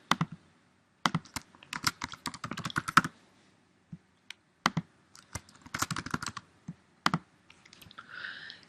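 Typing on a computer keyboard while filling in a web form, with quick bursts of close, crisp key clicks separated by short pauses, ending in a brief faint tone.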